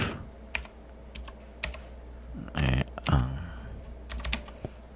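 Quick bursts of key presses on a computer keyboard as a username and password are entered, close and clear, with short pauses between runs of typing and faint room noise underneath.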